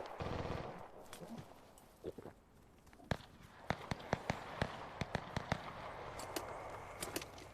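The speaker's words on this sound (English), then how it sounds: "Someone's shooting." Gunfire in a zombie video game rattles off as a string of sharp, fairly faint shots in quick irregular succession, some closely spaced like automatic fire, following a stretch of murky background noise.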